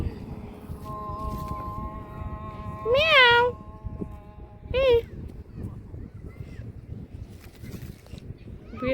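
A cat meows twice, rising and falling, over a steady background hum and faint murmuring, with a sustained tone running beneath.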